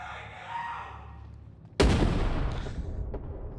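A grenade detonates in a video game with a sudden sharp blast, loud and close, followed by a rumbling decay that lingers for over a second after a quieter lead-in.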